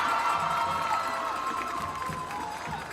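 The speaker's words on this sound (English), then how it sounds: "Let's give a big round of applause for both Addie and" Crowd at a high school football game cheering and applauding for homecoming court nominees, a dense sustained roar of voices and clapping with a loudspeaker voice ringing over it, gradually easing off.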